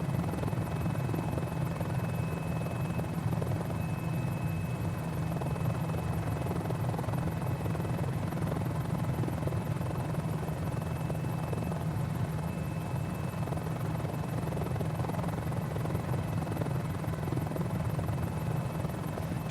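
Helicopter rotor and engine drone steadily from a Mini-500 in a civilian flight simulator game, a loud continuous whir with a thin high whine and no breaks, no one speaking over it.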